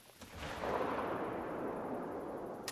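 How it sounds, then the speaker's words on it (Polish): A hunting rifle shot in theHunter: Call of the Wild booms and then rolls into a long, broad, muffled rumble that fades slowly over a couple of seconds, heard alone and fairly quiet. "zabiłem zwierzę jednym strzałem"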